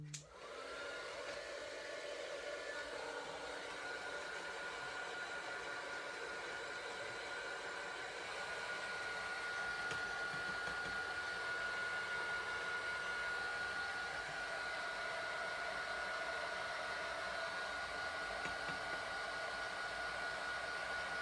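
A hair dryer blows steadily and fairly close for about twenty seconds, drying alcohol ink on a surface. The whoosh is continuous and even, with no talking over it.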